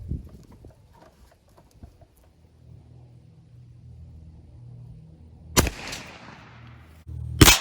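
.410 shotgun firing a TSS steel duplex load outdoors: one sharp, loud, close blast with a decaying rumble, after low background hum, followed by a second loud thump at the end.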